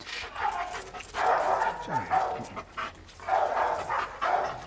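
A dog barks and yips in short bursts close by, with people speaking over and between the barks.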